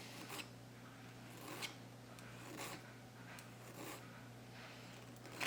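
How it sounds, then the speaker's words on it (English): A hand file breaks the edges of a metal extractor part during tuning: quiet, short rasping strokes repeat at a slow, steady pace. "I'm just going to take a file here and I'm just going to break the edges."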